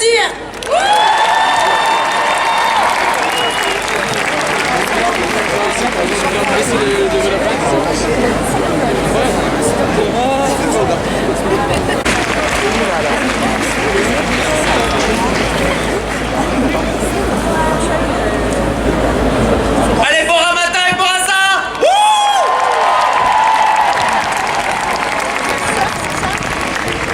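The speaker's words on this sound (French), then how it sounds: "Merci, vous pouvez nous applaudir." A large outdoor crowd at a Paris climate march applauds and cheers loudly and continuously, a dense roar of clapping and voices with a brief break near the end before it surges again.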